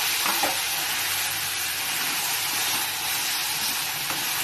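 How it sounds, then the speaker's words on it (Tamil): Crab is tossed and fried in a hot pan with turmeric and salt, filling the clip with a loud, constant, hissing sizzle. Faint stirring scrapes come through up close, and nobody speaks. "நண்டு போட்டு நல்லா மிக்ஸ் பண்ணிக்கலாம்"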